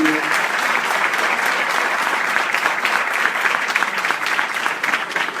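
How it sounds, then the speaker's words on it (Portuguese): Loud, sustained applause from an audience at a talk during the Paraty em Foco 2016 event. Dense clapping runs evenly through the whole clip with no voices above it. "Uma salva de palmas para eles."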